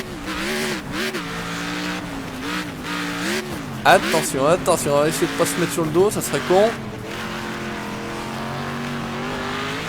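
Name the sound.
American V8 car engine racing in video game Next Car Game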